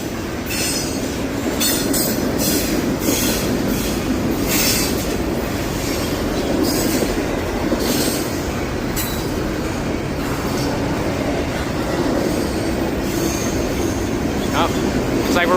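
A long freight train rolls past close by in Danville, with continuous rumbling, rhythmic clicking of wheels over rail joints, and occasional metallic squeals.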